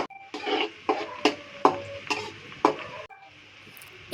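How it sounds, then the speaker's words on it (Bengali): Onions and green chillies sizzling in oil in a kadai, punctuated by about six rhythmic scrapes and taps of a spatula on the pan, close and clear, with the sizzle dropping off near the end. "এটাকে একটু ভাজা ভাজা করে নেব।"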